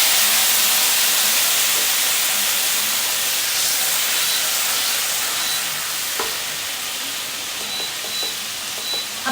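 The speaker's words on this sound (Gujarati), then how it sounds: "2 થી 3 ચમચી જેટલું પાણી ઉમેરી લઈશું." Two to three spoons of water go into a hot tempering of green chillies, whole red chillies and curry leaves, making a loud, broad hiss and sizzle that continues steadily and eases slightly toward the end, with a few faint clicks.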